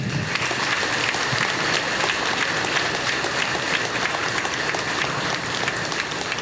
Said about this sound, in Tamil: இந்த மேடையில் இருக்கின்ற அத்தனை பெரியவர்களுக்கு ஒரு கைத்தட்டல் கொடுங்க